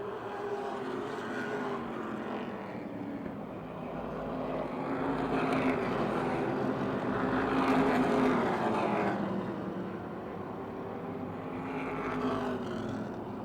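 Modified race cars lapping Motordrome Speedway in a 30-lap race, their engines droning in a steady roar that swells and fades as the pack passes, with no talk.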